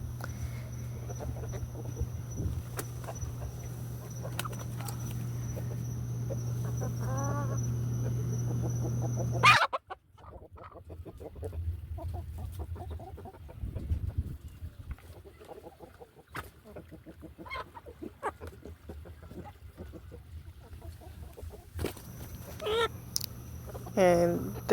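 Chickens cluck and a rooster calls in a farmyard, with a steady mechanical hum early on and intermittent clucks and squawks throughout.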